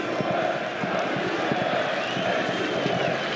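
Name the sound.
football stadium crowd applause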